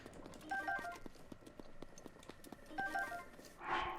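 Hooves of a giant horse clip-clopping in The Legend of Zelda: Breath of the Wild, a quick run of light, evenly spaced clops with faint game sounds beneath.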